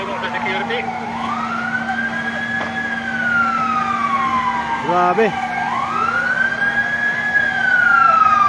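A fire truck siren wails in long rising and falling sweeps as it arrives at a house fire in a light-material home, loud and close, with brief horn blasts midway and a voice speaking over it.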